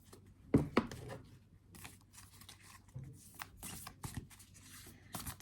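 Isis Oracle cards being shuffled by hand: a few quiet, crisp riffling bursts, sharpest near the start, then softer card slides spread over several seconds with no talking.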